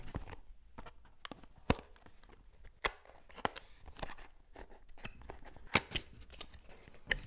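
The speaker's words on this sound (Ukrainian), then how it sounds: "Відкриваємо наш спалах. Давайте послухаємо знову ж таки ці звуки коробки." Cardboard box of a Godox TT520 II flash being opened and unpacked, with close crisp rustles, flap scrapes and sharp papery snaps coming in irregular bursts over quiet gaps.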